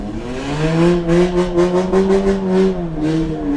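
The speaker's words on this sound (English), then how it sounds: "Hit the rev limiter as he goes by Josh Stock." An autocross car racing on an ice track near Glenwood, Minnesota bounces off its rev limiter, the loud engine note stuttering in rapid rhythmic pulses as it holds high revs close by.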